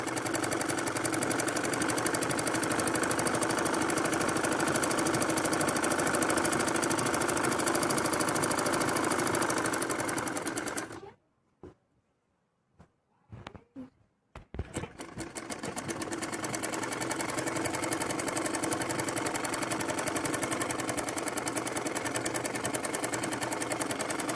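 A sewing machine stitches the bottom seam of palazzo pants, running in a loud steady whirring drone, then pausing for a few seconds with small clicks and fabric handling before the stitching resumes continuously, close up.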